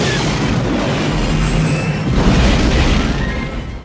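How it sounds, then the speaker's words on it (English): Star Wars autocannons built for anti-starfighter use in the Clone Wars fire with explosions, making a dense, continuous roar of booming blasts that swells louder midway and fades at the end. "So these are very impressive autocannons"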